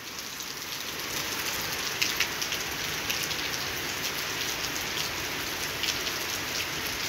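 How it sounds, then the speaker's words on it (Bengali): Heavy rain pours steadily in Dhaka, a dense, even hiss of drops on surfaces with a few louder patters, continuous and close throughout with no talking. "অনেক বৃষ্টি হচ্ছে আজকে।"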